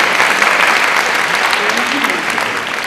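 A seated audience at a religious discourse claps in honour of the notable women present, a loud, busy wash of hands that holds steady and eases slightly at the end.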